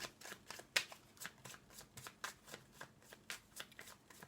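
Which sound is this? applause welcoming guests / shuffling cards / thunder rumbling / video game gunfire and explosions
shuffling cards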